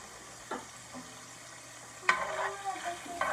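Tomato gravy frying hot in a pan and being stirred, with soft sizzling and occasional scraping clatter of the utensil, growing busier in the second half.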